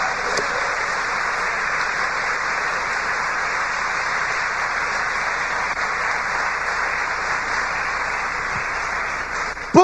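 A church congregation applauds the Lord in a dense, sustained wash of clapping that holds steady for about ten seconds, loud and close, before a brief stir at the very end.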